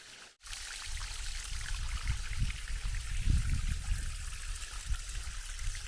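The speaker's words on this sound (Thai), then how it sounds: "มีน้ำอยู่แค่นี้อ่ะ" A small stream trickles along a mountain trail on Phu Kradueng, giving a steady close wash of running water with soft low gurgles and no voices.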